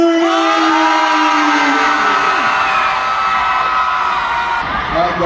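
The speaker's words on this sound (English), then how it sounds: "Let me hear your scream!" Loud concert crowd screaming and cheering at a show at Stanford, a dense sustained roar of shrieks and whoops filling the whole stretch without a break.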